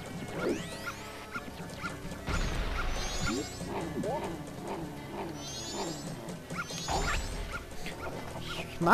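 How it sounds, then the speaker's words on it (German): Dog in The Legend of Zelda: Majora's Mask barking and whimpering in short repeated yelps, mixed with game sound effects and crashes throughout. "Ich mag den Hund immer noch nicht."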